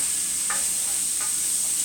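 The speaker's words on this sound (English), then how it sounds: "You can hear it start to sizzle in there." Steady, hissing sizzle of chanterelle mushrooms and shallots frying in a pan, fairly quiet and continuous, with faint soft stirring sounds and no voices.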